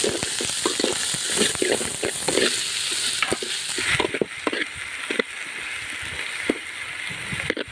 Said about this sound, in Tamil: இப்போ வெங்காயம் போட போகிறோம்.